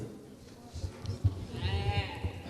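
A goat bleats at an FFA banquet auction with a wavering, nasal cry near the microphone that rises in the second half over low crowd murmur and thumps.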